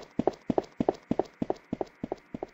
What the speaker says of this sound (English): that beating noise you hear, that noise is footstep noise